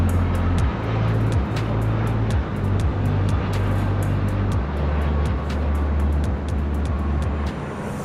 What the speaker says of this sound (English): Let's jump to the action as we do have a United 757-300.